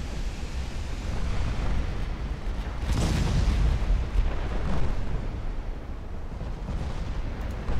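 Battleship guns firing armour-piercing shells in a dreadnought naval game, a continuous heavy rumble with a strong booming burst near the middle and smaller blasts after, loud and close, with no voices.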